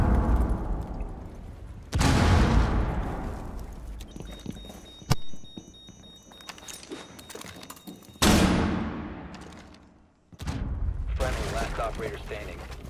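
A frag grenade detonates in the tactical shooter Rainbow Six Siege, loud booming blasts with debris rumble, followed by other heavy bangs and gunfire-like impacts during the round.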